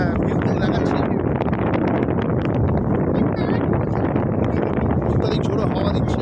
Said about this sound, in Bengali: অত্যাধিক ঝোড়ো হাওয়া দিচ্ছে।